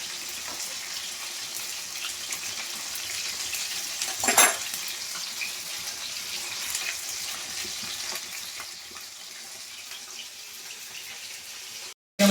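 Chicken pakoras deep-frying in hot oil, a steady close hiss and crackle running without a break, with one brief louder burst partway through.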